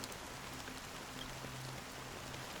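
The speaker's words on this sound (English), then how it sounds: "Amidst the fine drizzle of black rain, countless shadowy hands emerged from the sea." Fine drizzle of black rain falling over the sea in the Honkai Star Rail video game, a steady, dense hiss of rain with faint low tones beneath, continuous and fairly soft throughout.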